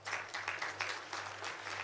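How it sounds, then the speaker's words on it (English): Audience clapping at a Kenyatta University career week event, fairly faint and distant, in uneven bursts over a steady low hum. "Do we deserve a clap?"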